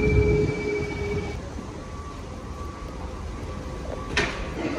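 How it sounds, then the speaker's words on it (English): Rumbling train ride in Copenhagen, Denmark, with steady broadband rail noise, a brief tonal whine fading early, and a sharp hiss or door sound near the end. "Time to catch a train to the hotel"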